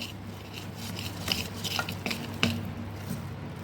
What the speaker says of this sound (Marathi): या पद्धतीने आधी घटणं मिक्स करून घ्यायचं गठोळ्या पूर्णपणे मोडल्या पाहिजे